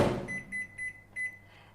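Microwave oven running at 70% power to heat food covered in cling wrap, giving a steady low hum with a few short repeated tones above it, quiet and close, with no talk.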